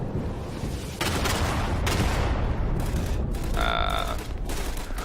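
Sustained gunfire in the World War II shooter game Day of Infamy, with artillery nearby: dense, loud shots and blasts running almost continuously through the clip, with a brief high whistling tone near the end.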